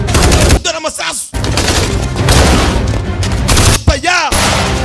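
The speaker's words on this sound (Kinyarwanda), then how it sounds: "Dore amasasu." Rapid bursts of gunfire crackle through a loud action film scene, dense volleys of shots with booms and thuds, while a narrator talks over the action at close range.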